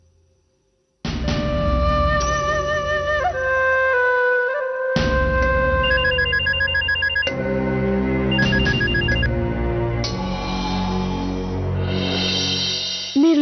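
A telephone rings during a call, with a loud electronic ringtone starting after a second of quiet and repeating in bright melodic bursts for over ten seconds, with no talking.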